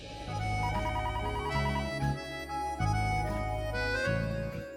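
A landline telephone rings continuously, a loud electronic ringtone pattern repeating with no voices present.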